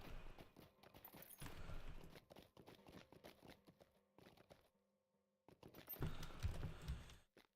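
Rhythmic clip-clop of horse hooves trotting in The Lord of the Rings Online, fairly quiet, pausing briefly in the middle before resuming.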